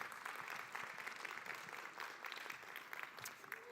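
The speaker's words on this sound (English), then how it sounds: "will you please welcome them up to the platform right now with a round of applause." A telethon audience applauds as guests are welcomed onto the platform, a dense, even patter of many hands clapping at moderate distance for several seconds, no talk over it.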